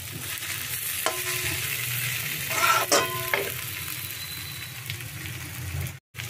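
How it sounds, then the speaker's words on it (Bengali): Biryani rice fries with spices in a pan, a steady low sizzle broken by a few scraping stirs near the middle and a brief dropout toward the end. "তো চালটাকে মশলার সঙ্গে একটু ভালো করে ভেজে নেব।"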